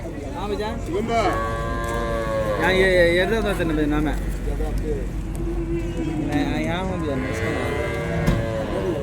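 Cattle at the Vaniyambadi cattle market moo in long, wavering calls, several overlapping and close by, while people talk nearby.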